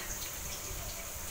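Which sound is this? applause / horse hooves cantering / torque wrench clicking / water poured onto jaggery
water poured onto jaggery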